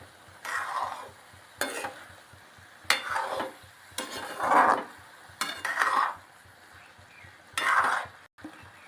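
Ridge gourd curry stirred in a pan over low heat, a utensil scraping in six repeated strokes about a second apart, close and moderately loud over a soft sizzle.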